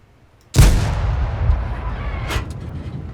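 A tank's main gun fires one loud, sharp shot in World of Tanks, with a booming blast followed by a long rumbling decay and a second fainter crack near the end.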